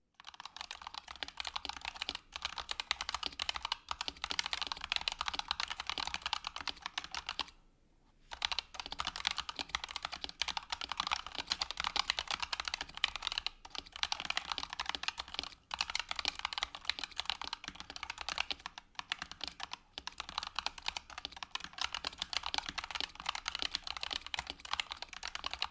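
Fast continuous typing on a Razer mechanical keyboard with optical switches, a dense stream of sharp, loud clacks with hard bottom-outs, close up, pausing briefly once before resuming.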